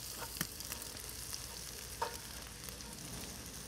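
Shaved Brussels sprouts frying in a pan give a steady, soft sizzle with a couple of faint stirring clicks, heard alone at a moderate distance.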